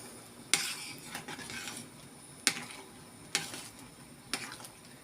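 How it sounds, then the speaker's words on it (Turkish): Pepper jam boiling in a pot is stirred with a utensil, giving four sharp clinks against the pot over a soft bubbling simmer. "Şimdi karıştırıyorum."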